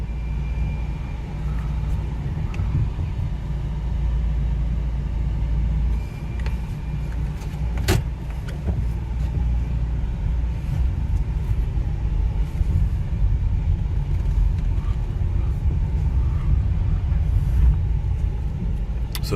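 A used one-owner car with 185,000 miles on it being driven, giving a steady, close low rumble of engine and road noise that holds throughout with no talking.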